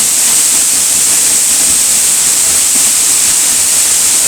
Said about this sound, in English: Standing behind the waterfall, looking through it at the cliffs beyond.